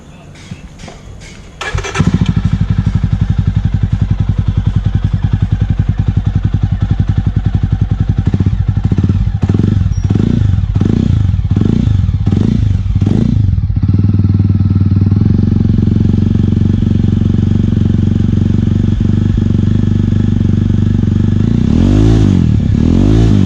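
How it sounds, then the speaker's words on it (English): A Jawa Classic motorcycle fitted with a MotoWings Performance exhaust starts up and settles into a loud, close, deep thumping idle, with a series of rhythmic throttle blips midway and a final rising rev at the end. "So now let's hear the thump of Jawa."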